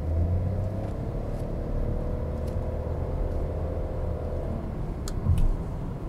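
A Peugeot 208 Style turbo hatchback accelerates in Sport mode from a traffic light, heard from inside the cabin as a steady low engine rumble and whir that builds gently, with no talk.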